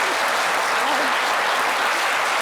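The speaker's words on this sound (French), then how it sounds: "On applaudit Police, quand même." Audience applause fills the room at a business presentation, a dense, steady wash of many hands clapping at close range with no gaps, loud and continuous throughout.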